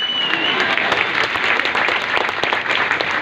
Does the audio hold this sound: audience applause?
yes